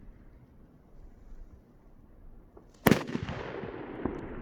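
An FS3 Demon firecracker, a flameless type, goes off with one sharp, loud bang after a few seconds of quiet outdoor wind noise, followed by crackling debris and a fading echo.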